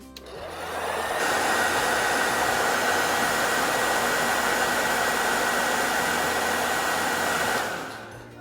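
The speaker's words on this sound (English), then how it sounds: "dry a little bit with the blower" A handheld hair-dryer-style blower drying fresh paint on a doll, a loud steady whooshing roar that spins up, holds for about seven seconds and then winds down, with no talking.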